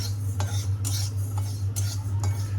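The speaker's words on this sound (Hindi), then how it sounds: "चलिए, तिल को हम हल्का सा टोस्ट कर लेते हैं" Sesame seeds toasting in a pan, tossed and stirred with a utensil, giving repeated scraping and rattling strokes over a steady low hum, close and fairly loud, with no talk.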